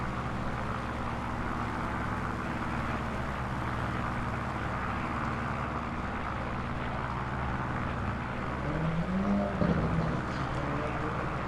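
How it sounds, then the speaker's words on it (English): A car pulls away from traffic lights, its engine revving and rising toward the end over a constant low drone. "every car that pulls up to the traffic lights feels like he has to race off the line"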